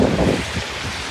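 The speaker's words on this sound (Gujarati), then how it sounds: "પવન એટલો છે ને, આ છત્રી રે ને કાગડો થઈ જાય તરત." Strong wind with rain outdoors, a loud, dense rumbling gust buffeting the microphone, heaviest at the start and then easing into a steady roar.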